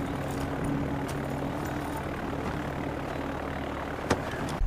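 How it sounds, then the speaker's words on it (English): Engine of a plane about to take off in a Far Cry game, a steady drone holding at even loudness throughout, with a faint thump near the end and no talk over it. "The one in the plane that's about to take off."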